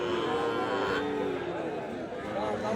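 Sahiwal Gir bull calves at the Ambari cattle market give low moos and lowing amid a steady murmur of crowd chatter, with people talking nearby throughout.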